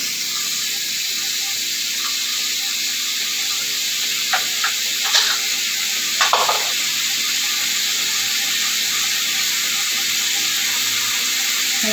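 Onions, carrot, papaya and potato are added to chicken browning over high heat for a stew, giving a loud continuous close sizzle with a few brief clatters of stirring midway.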